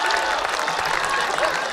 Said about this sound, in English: Rapturous applause from the home fans.